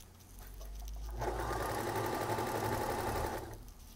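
A Baby Lock sewing machine with a free arm and oscillating hook runs steadily for about two seconds, a fast close mechanical whirr that starts and stops cleanly.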